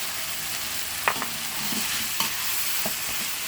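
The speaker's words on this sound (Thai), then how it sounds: "หมูบดลงไปคั่วนะครับหมูบด" Minced pork stir-frying in a pan gives a steady broadband sizzle, broken by a few sharp scraping knocks from the spatula. It sounds close and continuous, with no voices.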